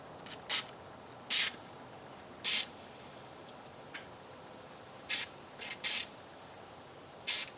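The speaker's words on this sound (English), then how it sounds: "So we'll give this a little spray." Several short hissing bursts from an aerosol can of Mopar rust penetrant sprayed on a 1997 Audi A4 Quattro, irregularly spaced, close and fairly quiet in an otherwise still room.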